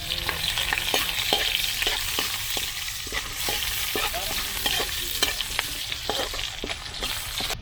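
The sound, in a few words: garlic and onion frying and stirred in a pan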